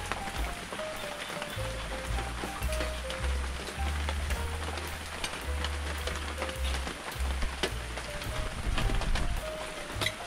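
Steady rain patters down on a rural homestead roof or surface in Busuanga, a dense continuous hiss with low engine-like rumble beneath, moderately loud and without speech.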